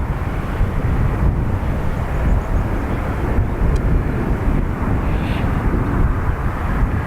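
An SAS airliner bound for Copenhagen takes off from a Dublin Airport runway, giving a loud, steady broadband engine roar that fills the whole stretch, with some wind buffeting on the microphone.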